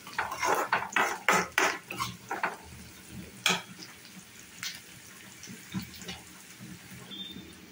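Capsicum and mixed vegetables fry in a pan over a raised flame, with a busy run of sharp utensil clatters and stirring scrapes at first, then quieter scattered clinks over a soft sizzle.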